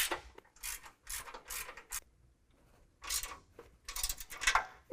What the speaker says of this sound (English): we're using the 3/4 inch wrenches to get this tightened up